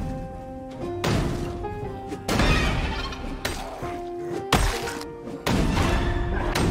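Zombies pound on metal storage unit doors in Project Zomboid, a run of heavy thuds and clanging impacts arriving in loud bursts, some with a shattering crash edge, against a steady game hum.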